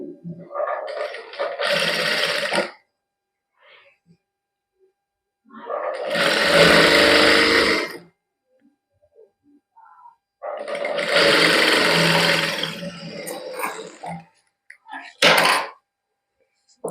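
A sewing machine stitches joined fabric pieces in a boutique, running in three loud, close bursts of a couple of seconds each with a short final burst, separated by near-silence and occasional soft sounds.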